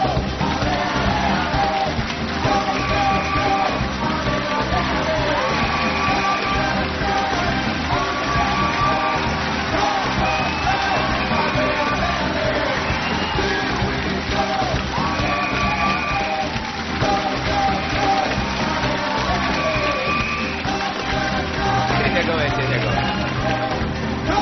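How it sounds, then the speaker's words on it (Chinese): A large audience applauds and cheers continuously and loudly, with music playing underneath the whole time. "掌声有请开讲嘉宾郑智。"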